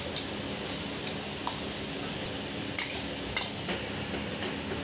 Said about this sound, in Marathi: आता ही आपण जी चटणी टाकली ती पण छान अशी परतून घ्यायची आहे।